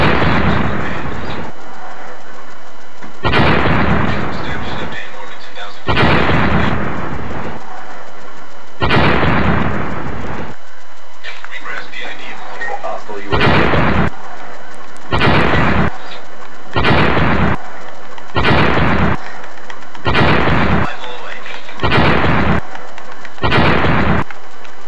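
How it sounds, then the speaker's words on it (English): Explosions and gunfire in a ground-warfare video game battle, including bombs striking around a boat: a series of loud, booming blasts repeating at irregular intervals, then faster in a rapid rhythmic sequence. "There's no escape from those bombs, from the explosions that had just happened."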